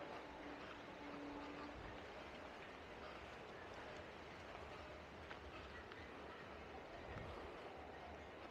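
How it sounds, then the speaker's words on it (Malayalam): A train runs along the railway line beside a five-acre riverside coconut grove on the Bharathapuzha, opposite Lakkidi railway station, a faint, distant, continuous rumble with soft rail clatter and no talking. "തൊട്ടടുത്തുള്ള റെയിൽവേ പോകുന്നുണ്ട്."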